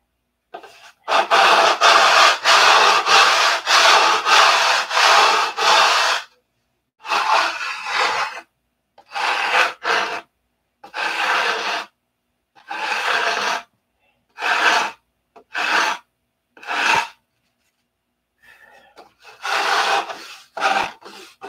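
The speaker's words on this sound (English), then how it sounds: "sit outside and sand this" A model Razorback P-47 airplane is sanded by hand, giving a long continuous rubbing pass followed by a series of shorter rhythmic scraping strokes, close and fairly loud.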